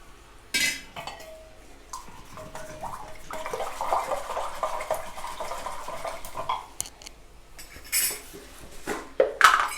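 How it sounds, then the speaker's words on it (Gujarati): Curd whisked with a little water in a bowl for Gujarati dry-fruit kadhi, giving close metallic clinks and scraping strokes in uneven bursts, with no talking. "એને આપણે સારી રીતે વલોવી નાખીએ થોડું પાણી નાખીને"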